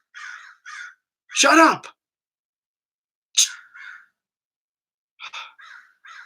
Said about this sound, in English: Those gosh darn crows, man.